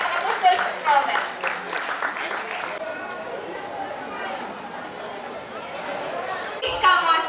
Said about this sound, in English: Let's give them a big round of applause again for their great and wonderful performance.